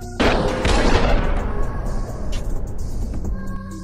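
A single loud gunshot rings out in a horror film scene, a woman firing at a boy, followed by a long booming echo that fades into quieter ambient rumble.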